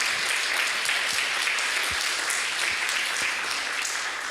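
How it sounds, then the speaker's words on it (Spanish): A church congregation applauds steadily for several seconds, a thick continuous roll of many hands clapping with scattered sharper claps and no talk. "Denle un aplauso al Señor."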